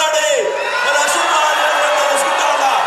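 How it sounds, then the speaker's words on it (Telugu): A large outdoor crowd at a house-site deed distribution event for the poor, a steady roar of cheering, whoops and clapping that stays loud and close throughout, with voices mixed into the din. "మీరందరూ కూడా చప్పట్లు"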